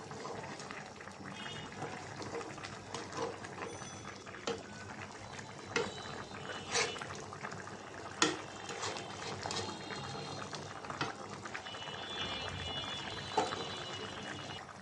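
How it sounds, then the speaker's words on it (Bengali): Rohu fish curry with potato and tomato bubbles at a boil in a pot, a soft, continuous burble with occasional louder pops and light stirring clinks, faint and close. "মাছটা বলক এসেছে, আর একটু হালকাভাবে নাড়াচাড়া দিয়ে দিব"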